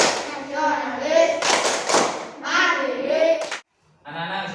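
A classroom of schoolchildren performs a rhythmic clapping chant, bursts of hand claps mixed with their loud chanted voices close by, ending with a brief pause before more voices.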